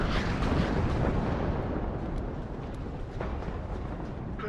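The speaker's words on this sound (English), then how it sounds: "Solid artillery." Heavy artillery shells from M110 self-propelled howitzers exploding in the video game WARNO, a dense, continuous rumble of overlapping blasts with sharper bursts near the start and around three seconds.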